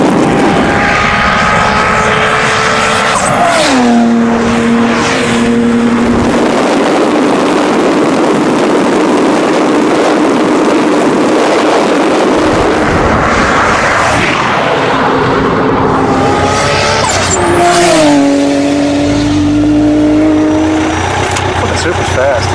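A Toyota Supra and a Lamborghini race as engines whine up through the gears in rising pitch sweeps with shifts, loud and close, repeating as they pull away, over constant background noise and speech.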